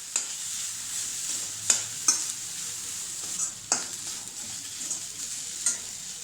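Steady sizzling of ginger frying in a pan on a stove, with a few scattered scraping clicks of a utensil stirring it, and no voices.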